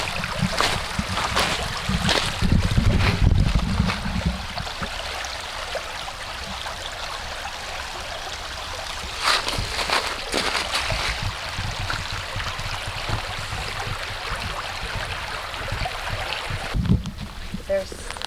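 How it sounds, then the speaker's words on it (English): A creek in Mendocino flows and trickles close by, a steady wash of water broken by a few louder splashes and rustles. "Check out this creek here."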